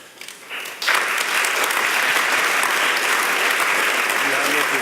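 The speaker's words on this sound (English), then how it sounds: "they really deserve a big round of applause" A conference audience at a food security round table applauds the panel speakers: after a brief quieter patter, loud, dense, sustained clapping swells up and holds steady, filling the hall.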